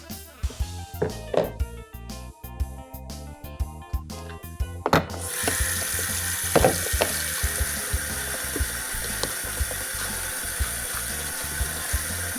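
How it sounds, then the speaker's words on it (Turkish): Dishes clatter and knock in a sink, then a tap runs steadily while plates and utensils keep clinking under the flowing water. "deterjan ile burada yıkayabilirim."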